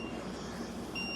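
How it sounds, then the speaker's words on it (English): A phone alert keeps going off with a thin electronic tone, steady and faint, rising into a higher pitch near the end with no voices. "Let me move my phone away because it's still going off."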